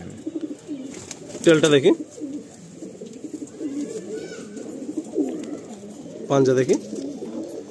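Madrasi pigeons coo steadily in a loft at Bankra, Howrah, a continuous low warbling chorus close by, with two short bursts of people talking over it.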